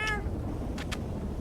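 A cat trapped up a tree gives a short, clear meow right at the start, followed by two faint high chirps partway through, all over steady low outdoor background noise.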